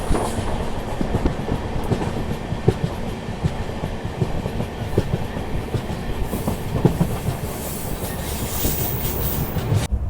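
Superfast express passenger train running on the Hadapsar (Pune) to Rewa route, heard from on board as a loud, continuous rumble with rhythmic wheel clatter and rail clicks, no talking.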